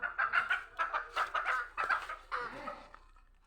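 Chickens cluck in a run of short, closely spaced calls at moderate loudness, with one rising call near the end before the sound fades out.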